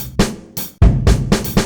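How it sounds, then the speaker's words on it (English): A rock drum kit in the Groove Pizza sequencer plays a short, punchy beat: heavy kick and snare hits with crashing cymbal wash in quick succession, loud and close. "And the rock beat or rock kit sounds like this."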